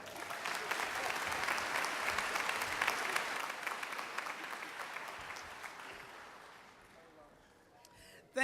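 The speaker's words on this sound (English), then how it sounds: "Please give a round of applause to Jewel Cherry." A graduation audience for adult high school and GED graduates bursts into loud, sustained applause that fills the hall for about seven seconds, then thins and fades out.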